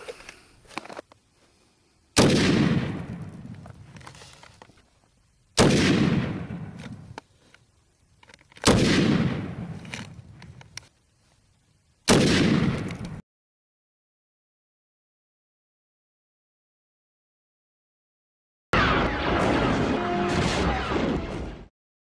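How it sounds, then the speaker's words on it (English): A real .50 calibre Bushmaster rifle fires armor-piercing rounds: four heavy, booming shots spaced about three seconds apart, each with a long rolling echo, followed by silence and then a later burst of noise. "Thirty feet, four shots, armor piercing into about a 4-inch circle."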